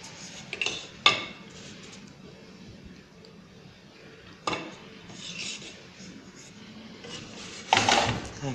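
A utensil scrapes and flips homemade shawarma flatbread in a pan, with a few distinct scraping knocks and sizzling rasps at close range and quieter stretches between them.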